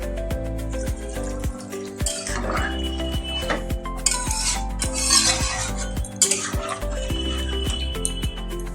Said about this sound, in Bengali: এই কড়াইয়ের মধ্যে যে মশলাটা লেগেছিল সেই মশলাটার মধ্যে জল দিয়ে আমি দিয়ে দিচ্ছি